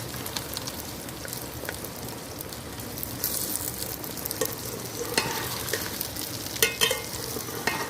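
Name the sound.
okra (bhindi) frying in hot oil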